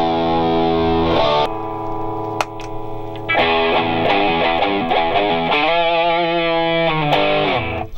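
An electric guitar is played through a Bad Monkey overdrive pedal, giving a thick, distorted tone. Sustained chords ring out, then a run of picked notes and bends follows, loud and upfront with no talking.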